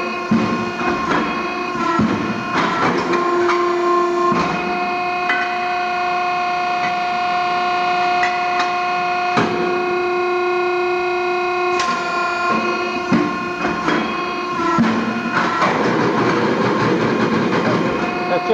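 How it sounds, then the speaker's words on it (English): A Model 3234 SADEH2P machine runs a series of parts in production, a loud steady mechanical drone with sustained tonal whine, repeated clanks and clattering impacts, and some chatter throughout, with no talking. "now we're going to run a series of parts just to see how the machine operates in production"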